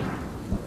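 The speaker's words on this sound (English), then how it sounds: "The storm that swept through Brisbane, concentrating itself on Wollongabba and on the cricket ground." A brief deep rumble of thunder from a fierce storm sweeping over the Woolloongabba cricket ground in Brisbane, steady and booming with a heavier swell near the end.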